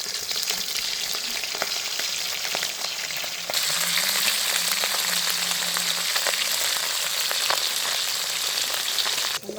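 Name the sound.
meat frying in oil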